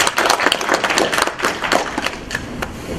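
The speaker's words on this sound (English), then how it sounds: "I think we should give him another round of applause." A conference audience claps for a speaker who has just finished, a brief burst of applause from a modest crowd with individual claps distinct and fairly close.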